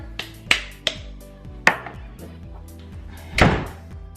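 A plastic garlic container being forced open, several sharp clicks and snaps spaced irregularly, with a louder crack near the end, close and fairly loud.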